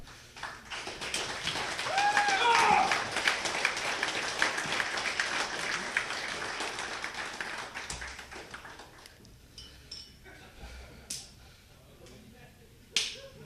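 Conference crowd applauding a winner at a security event's closing ceremony, a sustained burst of clapping and whoops that fades out, followed by scattered claps and a few voices.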